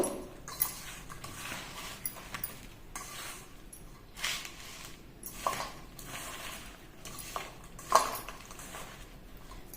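Ingredients for jaggery avakaya mango pickle being mixed by hand in a bowl, giving soft irregular scraping and stirring scuffs with occasional light clinks, close and quiet.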